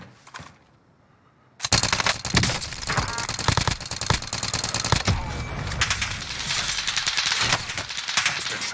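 Rapid gunfire in Warzone Rebirth Island, a loud continuous barrage of dense automatic shots that bursts in after a quiet opening second and keeps going to the end.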